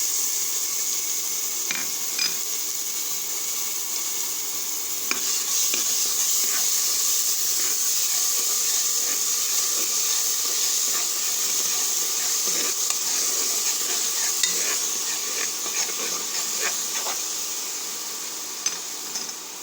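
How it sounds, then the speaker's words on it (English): Ground ginger garlic paste fries in a pan for banana flower biryani, giving a steady close hiss and sizzle broken by light scrapes and clicks of stirring, with no talking. "With this, I have to add the ground ginger garlic paste."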